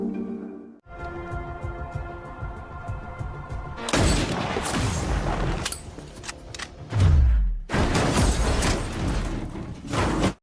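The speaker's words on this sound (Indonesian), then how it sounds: "Chris langsung menembak mobil Alex hingga terguling." A film shootout in which a car is shot at until it overturns, with loud bursts of gunfire, heavy thuds and a deep crashing boom. Dense, close and forceful, broken by brief gaps, and preceded by a tonal, musical opening.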